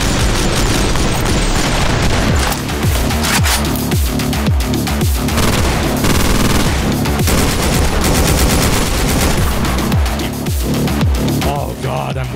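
Rapid AK rifle gunfire in the top-down shooter video game OTXO, dense bursts of shots and booming impacts running continuously and loud throughout, layered over game music.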